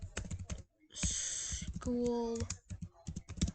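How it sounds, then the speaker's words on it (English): Rapid keystrokes on a computer keyboard while entering text on a blank presentation slide, close and clear with short pauses, alongside a brief tonal beep. "you start already typing on this blank page"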